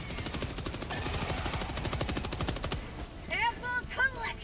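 An autocannon fires in the video game Helldivers 2 as a fast string of heavy, evenly spaced shots lasting nearly three seconds, followed by sharper electronic effects and a voice briefly speaking.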